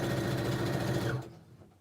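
A Juki sewing machine stitching fabric for a reversible tote bag, a loud steady mechanical whir running for about a second and a quarter before cutting off into quiet.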